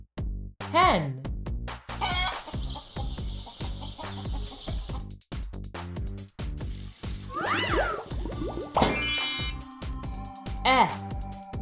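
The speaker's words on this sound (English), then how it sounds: "Hen." A hen clucks in short, bright bursts scattered across several seconds, set among a voice speaking plainly nearby.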